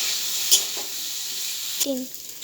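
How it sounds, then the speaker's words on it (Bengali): Cumin and coriander powder cook in hot oil with vegetables for a thin drumstick curry, a steady hissing sizzle with a couple of brief scrapes from a stirring spoon. "জিরে গুঁড়ো, ধনে গুঁড়ো কষিয়ে নেব এবার ভালোভাবে"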